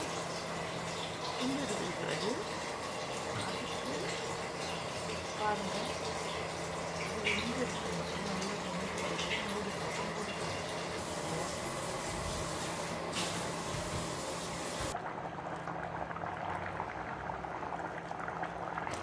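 Basmati rice in a pot of boiling water for prawn biryani, a steady bubbling and hissing simmer lasting throughout, close and moderate in level, with a brief shift in tone near the end.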